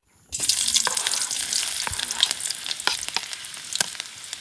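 Loud, steady sizzling of sambal frying in a hot wok starts abruptly, crackling and spitting close by, with occasional stirring scrapes, at a forest campsite.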